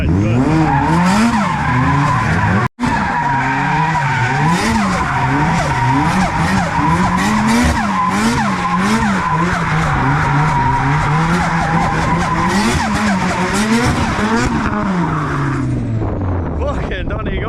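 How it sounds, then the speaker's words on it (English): A car doing a skid on a road in Donegal, Ireland, its tires squealing loudly in long wavering bursts as the engine revs and the car circles, close by, with shouting voices. "so Connor, I bet you want to do a skid"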